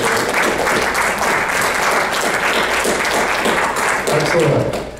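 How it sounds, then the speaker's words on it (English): A public audience applauds panel members at a discussion event with loud, steady clapping, with a few faint voices mixed in toward the end. "a round of applause for our panel members here in the public"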